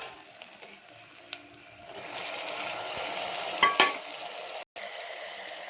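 Tomatoes sauté with onions in oil in a pan for chicken curry, a quiet fry that swells into a steady hiss, with a couple of brief stirring knocks near the end.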